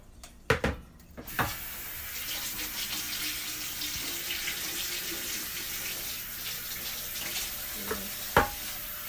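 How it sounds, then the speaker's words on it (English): Warm water runs steadily into a container for several seconds, a continuous splashing pour close by, with a few clinks at the start and end. "When I add the warm water"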